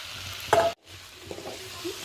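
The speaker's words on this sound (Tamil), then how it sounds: "இது மாதிரி காலிஃப்ளவருக்கு எல்லா பக்கமும் அந்த மசாலா இது ஆகிற மாதிரி படுற மாதிரி கிளறி விட்டுடுங்க" A spoon stirs fried cauliflower into onion and capsicum masala in a pan, a brief scrape and soft sizzle followed by a pause, then quieter frying.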